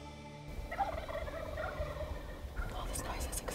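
Wild turkeys gobble in a springtime field, a loud, busy chorus of many birds with repeated rattling gobbles overlapping one another, close and continuous, with no talk.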